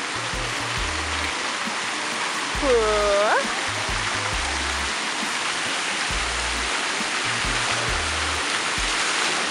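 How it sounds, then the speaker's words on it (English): Stream of flowing water at a resort, like a lazy river, makes a steady broadband rushing wash throughout, close and even, with footsteps and a brief voice heard over it. "There's more of the stream."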